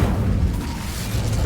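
The Incendio fire spell cast in Hogwarts Legacy, a loud, rumbling whoosh of flame with a sustained booming low roar and no talking.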